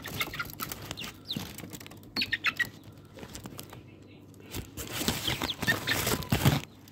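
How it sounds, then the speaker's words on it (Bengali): A hill chicken rooster and chicks cluck and peep in short, scattered bursts, with pattering movement and brief faint voices in the background. "এটা মোরগ, কিছু মুরগি বাচ্চা।"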